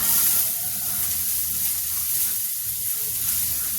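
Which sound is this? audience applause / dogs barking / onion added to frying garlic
onion added to frying garlic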